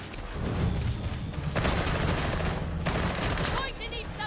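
Rapid bursts of video game gunfire crackle continuously at close range, with heavy booming shots and dense automatic fire filling the whole stretch.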